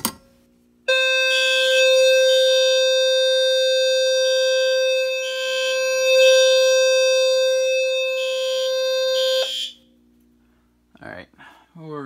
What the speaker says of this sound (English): Let's go ahead and realarm with the FCI MS2.